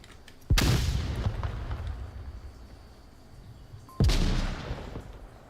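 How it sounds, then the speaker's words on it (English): Two loud booms ring out in the Onward video game on the Suburbia map, about three and a half seconds apart, each a sharp grenade blast followed by a long, rumbling decay. "there goes the quick nade, and it's not going to catch anybody"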